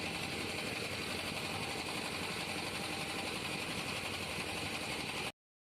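Engines of fishing boats and trawlers drone steadily in a continuous, close, even hum with no voices, running until the sound cuts off abruptly just before the end.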